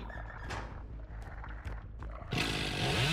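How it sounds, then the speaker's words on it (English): Chainsaw in a Dead by Daylight-style video game match, a rough snarling engine rev that surges and drops, then swells into a louder sustained roar at the end. "Chainsaw helping him out a little bit."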